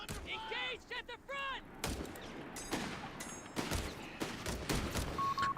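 Company of Heroes 3 combat: machine gun bursts and scattered heavy shots crack through the battlefield, mixed with a brief voice line and distant explosions, moderately loud with shifting intensity.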